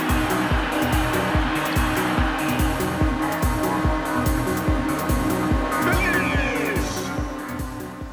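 Race car in the Ridge Racer Type 4 video game, a loud continuous engine drone with rapid rhythmic pulsing and a squealing tire skid toward the end.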